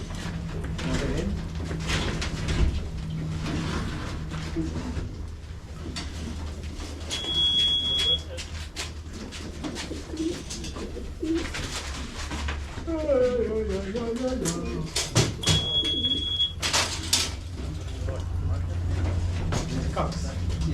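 Racing pigeons coo softly while being basketed for a 700 km race from Christchurch. The cooing is intermittent under nearby talk, with a low hum and a few short beeps.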